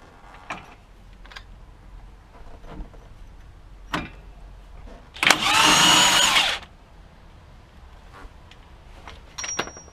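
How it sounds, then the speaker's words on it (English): An impact driver with a ball joint socket working loose the front upper ball joint on an MGF or MG TF, one loud sustained burst of about a second and a half, with scattered clicks and knocks of tools around it. "I'm going to use that on the impact driver"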